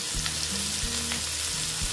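Koi fish frying slowly in hot oil in a pan, a steady close sizzle with crackling bursts and a faint low hum underneath, no voices.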